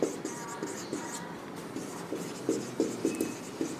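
A marker squeaks and taps across a board in short strokes and pauses during a physics lesson on spherical mirrors, fairly faint and close, with no talking.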